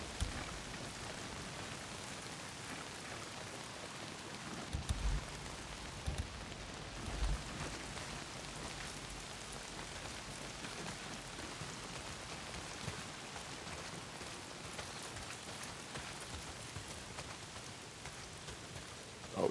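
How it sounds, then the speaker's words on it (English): Heavy, steady downpour in the video game Days Gone, a continuous dense hiss of rain on surfaces with scattered drop impacts, faint and unbroken throughout with no voices. "Well, not if it's pissing down rain."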